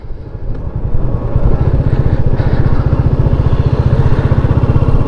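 A Royal Enfield Meteor 350 single-cylinder motorcycle being ridden beside the sea, its steady low engine thump loud and close throughout, with no voices.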